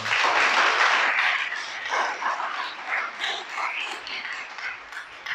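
A congregation at a Shabbat worship service applauds, a dense, steady wash of clapping that starts loud and eases slightly over a few seconds.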